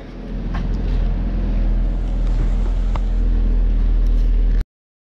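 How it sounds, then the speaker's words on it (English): A car drives steadily along, its engine and road noise forming a loud, constant low rumble with some wind buffeting, then cutting off abruptly near the end. "I am driving to pick up my BMW."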